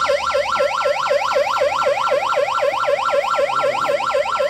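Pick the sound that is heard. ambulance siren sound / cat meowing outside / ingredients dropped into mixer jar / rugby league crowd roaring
ambulance siren sound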